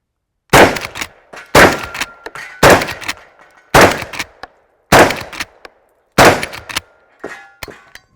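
A Henry lever-action .410 gauge shotgun fires six loud, close shots outdoors at roughly one-second intervals, each blast followed by a short metallic rattle of the lever cycling.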